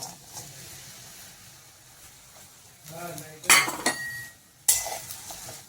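Quiet scraping and clinking of a utensil against a pan as chopped jaggery melts in ghee, in a few short bursts over a soft background hiss.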